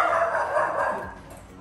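At a small-dog daycare, a dog gives a short run of yappy barks close by, with quieter room noise trailing off after the barking stops.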